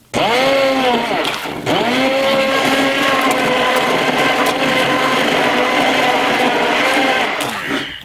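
A hand blender churns beef stew in a tilted pot, loud and close, with a steady whine that dips as it catches the chunks and then cuts off near the end.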